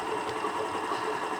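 Derbi Senda Cross City 125 motorcycle idling at about 1700 rpm, a steady, fast, buzzing engine patter recorded close up, unbroken and with no talk.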